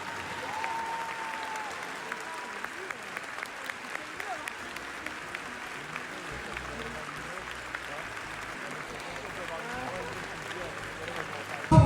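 Festival audience applause at a television series event, a sustained wash of clapping from a large crowd with scattered sharper claps throughout.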